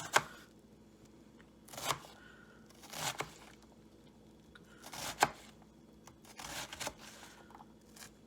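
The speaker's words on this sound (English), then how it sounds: "Now we chop." A knife chops straight down through an onion on a cutting board, giving about five separate soft thuds spaced roughly a second apart in a quiet room.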